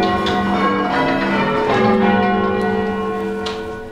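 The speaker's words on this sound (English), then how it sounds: "we start off with ringing what we call rounds, which is ringing down the scale from the highest note down to the heaviest note" Church bells ring rounds down the scale from the highest note to the heaviest, the tones overlapping and sustained as the peal fades slightly at the end, loud and close without voices.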